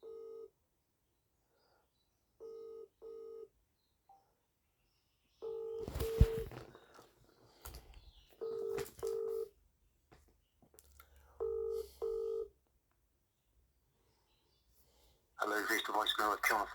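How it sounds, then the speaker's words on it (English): Telephone keypad tones beep in short separate bursts, singly and in quick pairs, while a call is placed to a law office. A brief clatter of handling noise and a faint voice sit between the tones, and a burst of ringing closes the sequence. "ringing up Jonathan Smith."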